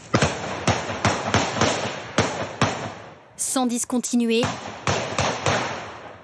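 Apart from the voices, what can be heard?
gunshots fired at night in a residential neighbourhood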